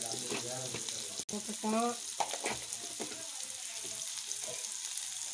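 Steady crackling sizzle of onions and green chillies frying in a pan, close and continuous, with someone speaking briefly in Tamil over it.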